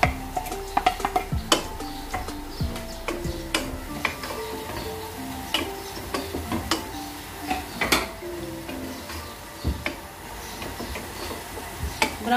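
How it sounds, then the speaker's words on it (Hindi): Two medium chopped onions brown in a little oil in a pan, giving a soft continuous sizzle broken by frequent sharp clicks and scrapes of a spoon stirring against the pan. "दो दरमियाने साइज के प्याज काट के मैं इसको ब्राउन कर लूँगी।"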